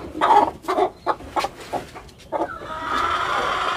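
Chickens cluck on an integrated farm, a series of close, choppy bursts of clucking calls, followed by a steadier squawking cackle toward the end.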